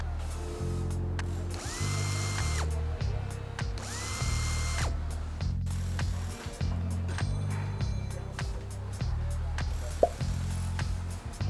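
A power drill or impact driver backs out the ECU mounting bolts on a 2019 Hyundai Veloster N. Several bursts of whirring and ratcheting are heard up close, with short pauses between them and faint clatter in the background.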